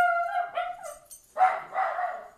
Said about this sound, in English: That was my dog because some kids are skating down the sidewalk.